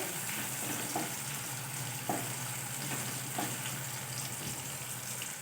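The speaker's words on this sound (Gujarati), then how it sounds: "હવે આપણા મસાલા બધા એકદમ તેલમાં સતળાઈ ગયા છે" Tomatoes and spices sauté in oil for mixed dal fry, a steady, close sizzle with occasional soft stirring knocks, heard alone without talk.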